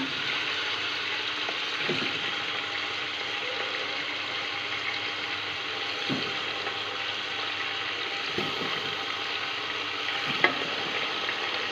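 Beef pieces for nihari fry in a pan with a steady, close crackling sizzle, broken by a few soft knocks of stirring.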